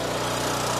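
A gasoline generator converted to run on propane sputters and drones in a brief, loud, close burst of small-engine noise on the first pull, with no choke used.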